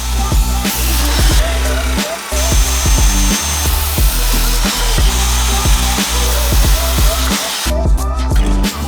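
Power saw cutting a wooden board held down on a brick, a loud, close, continuous whine with shifting tone.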